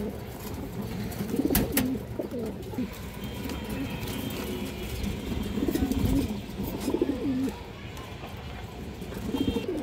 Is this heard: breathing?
no